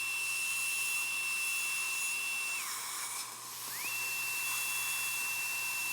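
A high-pitched dental drill whines while a bur connects depth cuts during a tooth preparation. The whine dips briefly in the middle, then spins back up to a steady, fairly quiet pitch.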